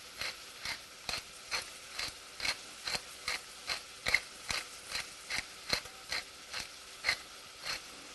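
A pepper mill grinds black pepper in about twenty evenly spaced, crisp ratcheting clicks, each turn a short, close, quiet crunch against near silence.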